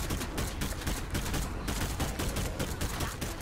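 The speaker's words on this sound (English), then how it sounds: "I love this gun, 150 rounds in a single mag." Dense, continuous automatic gunfire from a 150-round-magazine gun in the video game State of Decay 2, rapid loud bursts packed tightly together with no pauses, close and filling the whole stretch.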